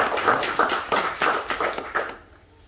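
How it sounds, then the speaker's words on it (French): A crowd applauds a first-prize winner from a butcher's shop at an awards ceremony, a short burst of clapping in uneven bursts that fades out after about two seconds. "Donc là, on applaudit parce que là, voilà"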